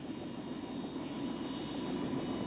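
A Bell OH-58 helicopter turbine engine spins up, giving a steady, even whine and rumble that holds at constant level throughout, with no talk.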